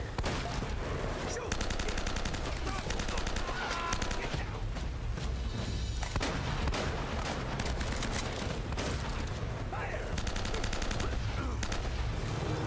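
Bursts of gunfire in the video game Uncharted: Drake's Fortune, rapid repeated shots and automatic volleys crackling in clusters over several seconds amid game ambience.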